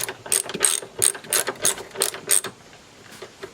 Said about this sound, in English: So then all you got to do is tighten that back up.